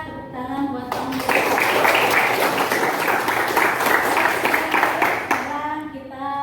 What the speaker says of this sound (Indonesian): tepuk tangan buat kamu.